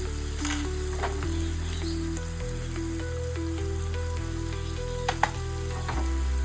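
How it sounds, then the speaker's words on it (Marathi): Homemade red masala with tomato and turmeric fries in a pan for a dried ribbon fish curry, giving a steady close sizzle with occasional stirring clicks beneath a low, constant hum. "असं घरगुती लाल मसाला परतवा एक दोन मिनटं मसाला भाजेपर्यंत हे परतवून घ्या"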